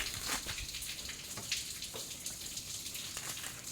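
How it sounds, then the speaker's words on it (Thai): Water runs briefly from a tap while salmon is being prepared for packing, a faint, steady splashing hiss with scattered droplet sounds throughout. "น้ำไหลแป๊บนึง"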